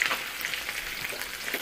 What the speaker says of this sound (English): those are frying up